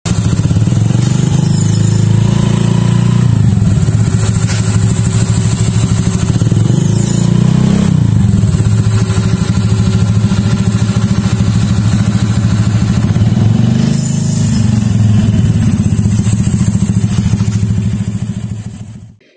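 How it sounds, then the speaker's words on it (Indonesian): Honda Vario 150 scooter fitted with a Matic Mania CVT, its engine revving loudly and steadily from close by with a slight turbo-like whine, alone for most of the run before cutting off at the end. "ntar pas digas tuh kayak ada bunyi turbo sedikit kan"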